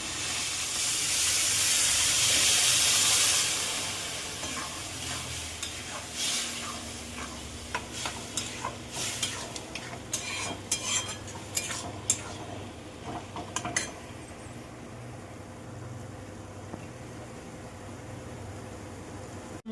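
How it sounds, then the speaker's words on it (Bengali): Vegetables stirred in a cooking pan: a loud steamy hiss opens the scene, then fades into scattered scraping and clicking strokes of the spoon against the pan, with a soft simmer underneath. "একটু ভালো করে নাড়িয়ে নেবে সবজিগুলিকে।"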